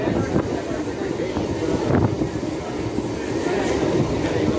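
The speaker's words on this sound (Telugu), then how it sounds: "ఇది ప్యాసింజర్ డెమో ట్రైన్." A passenger DEMU train runs between Tumkur and Yeshwanthpur in Karnataka, heard from on board as a continuous rumble and clatter with wind noise.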